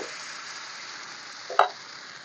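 A ladle of thin rice flour batter poured onto a hot griddle brushed with white oil gives a steady soft sizzle with one brief louder hiss partway through, close and alone without speech.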